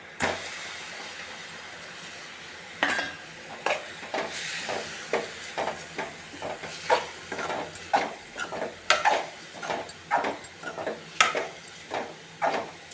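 Thick jaggery and coconut syrup bubbles and spits in a pan, with irregular soft pops and scraping stirs repeating under a steady background hum.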